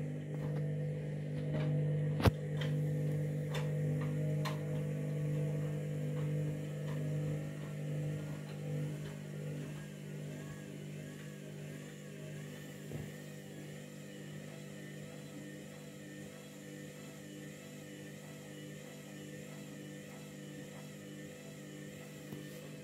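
A Candy washing machine washing a load of bedding hums steadily through its wash cycle without spinning, a constant low drone with a sharp knock near the start and a few faint clicks, no voices.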